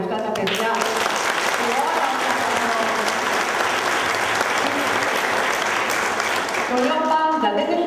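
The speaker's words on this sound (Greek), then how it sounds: "εδώ αξίζει ένα χειροκρότημα για αυτά τα παιδιά" A crowd at a ceremony honoring volunteer blood donors in a Greek city applauds steadily for a student volunteer blood donation group, sustained and even, with a voice briefly heard at the start and end.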